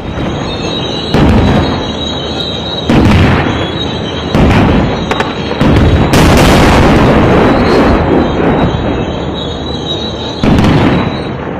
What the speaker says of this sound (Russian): Боевики стреляют из гранатометов и орудий.